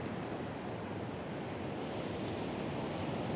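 Ocean waves at the shoreline wash in a steady, broad roar with some wind buffeting the microphone, continuous and fairly close, with no voices.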